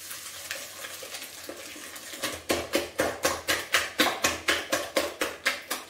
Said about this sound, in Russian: Все это хорошо перемешиваю с помощью венчика.